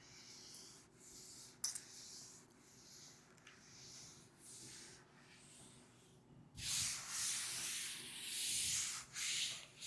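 A board being rubbed clean of writing in a maths classroom: soft, intermittent scrubbing strokes that swell into a longer, brisker wiping burst near the end, faint and close with no talk.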